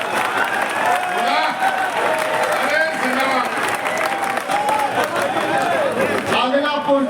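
Audience applause at a Hindi kavi sammelan poetry recital, a steady wash of clapping from the crowd lasting the whole stretch, with voices and some chatter mixed in beneath it.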